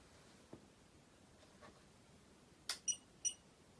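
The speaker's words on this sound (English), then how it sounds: "the beeping was the module." EZUHF radio module on a FrSky Taranis X7S transmitter beeping, three short sharp electronic beeps near the end in quick succession, faint and close in a quiet room after a few soft handling clicks.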